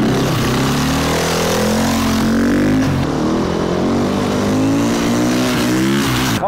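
A motorcycle engine revs hard during wheelie practice, loud and close, its pitch rising and falling in long sweeps as the throttle opens and eases, with a brief dip before climbing again at the end.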